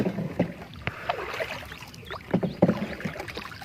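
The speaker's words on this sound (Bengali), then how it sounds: "আপনাদের দাদা ভাই যেভাবে নৌকা চালাইতেছে" A rowboat rowed on the wide, calm Padma river, with oars knocking and splashing in irregular strokes, close by against a soft open-air background.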